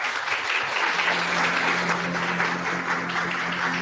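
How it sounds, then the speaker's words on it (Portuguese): Audience applause at a conference talk, dense steady clapping from a crowd that holds at an even level throughout. "Uma salva de palmas."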